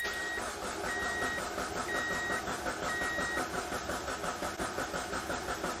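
Fire-damaged Mazdaspeed Miata engine cranking without catching, a steady rhythmic churning of the starter that continues throughout, with a repeated high electronic chime sounding over it.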